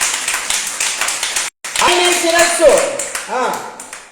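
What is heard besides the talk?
congregation clapping hands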